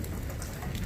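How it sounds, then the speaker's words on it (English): Rain falls steadily after a severe thunderstorm, a soft, faint, continuous patter and hiss with no voices present. "rain's starting to slow down"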